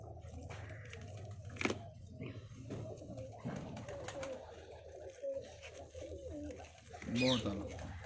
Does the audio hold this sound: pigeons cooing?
yes